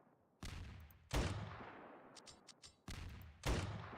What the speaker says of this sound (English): And now for the firing.